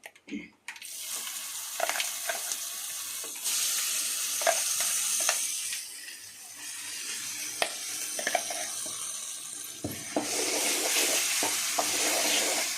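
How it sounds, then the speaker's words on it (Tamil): Curry leaf thokku paste being stirred as it fries in oil in a pan, with steady sizzling and repeated spatula scrapes and clicks close by, sometimes accompanied by soft water-like noise. "நல்லா தொக்கை வந்து கிண்டி விட்டுக்கிட்டே இருக்கலாம்"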